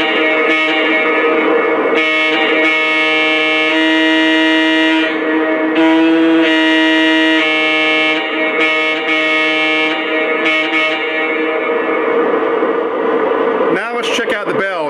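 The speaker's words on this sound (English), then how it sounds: "let's check out the horn" A Lionel Santa Fe ALCO PA model train locomotive horn sounds loud and near in a series of long and short blasts, with a slight echoing tail.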